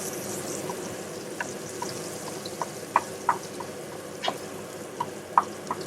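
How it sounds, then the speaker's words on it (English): Soft continuous sizzle of garlic frying in a pan, with scattered small pops and crackles over a steady hiss. "just the garlic, just to get it sizzling away"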